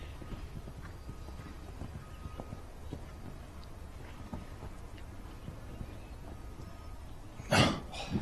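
Hooves of a show jumping horse canter across a World Cup course on a hill, faint rhythmic thuds in open air with a louder burst near the end.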